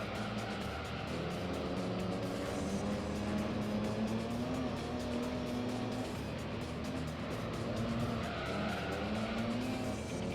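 Race cars roaring through a Gran Turismo 3 race on PS2, a steady loud engine drone with rising and falling pitch and tire squeal, continuous throughout without speech.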